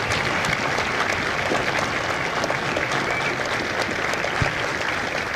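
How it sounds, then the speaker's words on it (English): A large audience at a Marine Corps recruit graduation ceremony in San Diego gives a sustained, dense round of applause, steady and loud from start to finish with a faint crowd murmur. "Ladies and gentlemen, a round of applause for their dedicated service to Corps and country."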